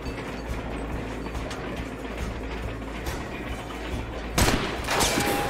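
Dense, rapid gunfire from the video game Hard West 2 rattles continuously, then a sharper, louder burst of shots near the end.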